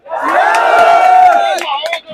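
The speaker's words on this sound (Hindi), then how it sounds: "लगातार ये भीड़ जो है यहाँ बढ़ती ही जा रही है" Crowd of students protesting a police exam paper leak, many voices shouting and whooping together in a loud, sustained roar with a few sharper yells rising near the end.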